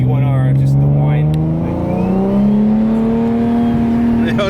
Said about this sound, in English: So you can hear the T51R, just the whine.